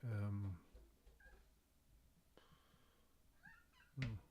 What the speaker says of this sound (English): My cat just came in.